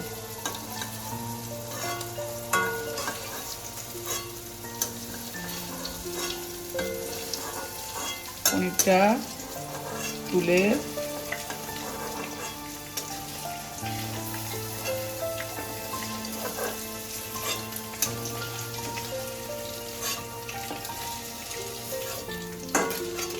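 Paneer cubes fry in hot oil in a pan with a steady crackling sizzle throughout and occasional scrapes and knocks of a stirring utensil, close by and without speech.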